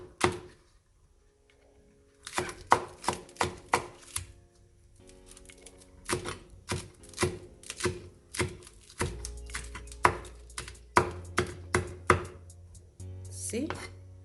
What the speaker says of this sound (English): done cutting onion